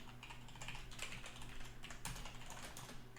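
Rapid typing on a computer keyboard while coding a GraphQL Apollo Server project, with dense close keystroke clicks running steadily throughout over a low background hum.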